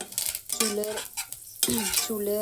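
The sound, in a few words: black cumin and curry leaves sizzling in hot oil for tempering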